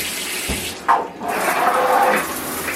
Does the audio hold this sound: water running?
yes